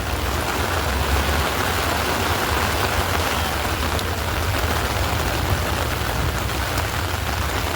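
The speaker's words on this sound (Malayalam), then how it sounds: "ഗംഭീര മഴ കേട്ടോ മഴ എന്ന് പറഞ്ഞാൽ അതുപോലത്തെ മഴ" Heavy rain pours down outside the front of Paramekkavu temple in Thrissur, Kerala, a loud, steady, dense roar that holds without a break throughout.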